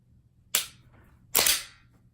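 Glock 23 pistol dry-fired during a function check: two sharp, close metallic clicks less than a second apart, crisp and isolated against a quiet background.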